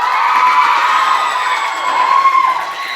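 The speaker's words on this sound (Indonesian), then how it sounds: "Tepuk tangan dong buat ketiga paslon kita." Students at a school student-council election debate cheer and shout loudly in a packed hall, a bright sustained roar of young voices with whoops rising and falling throughout.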